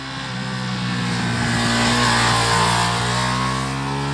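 A 2022 Ducati Streetfighter V2 motorcycle with a Euro 5 compliant engine revs hard toward the red line, a loud, close, sustained howl that swells in the middle and holds strong.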